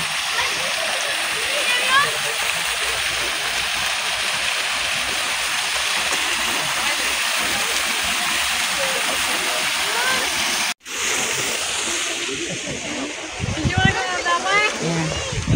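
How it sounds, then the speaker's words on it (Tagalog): Waterfalls in the Blue Mountains: a constant rush of falling, splashing water fills the scene, with a brief dropout midway and people talking over it toward the end. "Ang dami pong mga falls dito."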